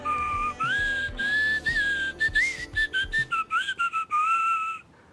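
A person whistles a melodic tune up close, clear sustained notes giving way to quick, bouncy staccato phrases before trailing off.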